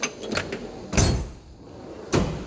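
A drawer in a Mac tool box slides open with a clattering rattle, two or three short bursts close by in a quiet room; the drawer is packed with tools like a pipe bender and coolant tester.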